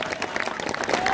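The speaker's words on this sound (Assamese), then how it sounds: "জোৰকে এটা হাত তালি দিয়ক" A crowd at an outdoor political campaign rally with the state agriculture minister claps hands loudly in a brisk, uneven burst, close and full, with a voice faintly audible underneath.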